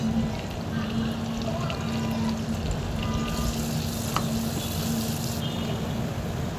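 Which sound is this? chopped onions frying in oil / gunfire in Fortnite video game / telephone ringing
chopped onions frying in oil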